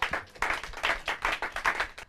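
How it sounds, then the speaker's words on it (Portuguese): Brief applause from a Portuguese quiz-show audience after a correct answer, a few seconds of short, rhythmic bursts of clapping at moderate volume with no talk over it. "Muito bem. Palmas."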